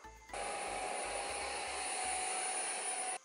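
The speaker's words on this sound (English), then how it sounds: "This vacuum cleaner is obsessed with trying to go downstairs." A robot vacuum cleaner runs indoors near a staircase, giving a steady, loud whirring hum with a thin high whine that holds for about three seconds, with a few faint low bumps early on.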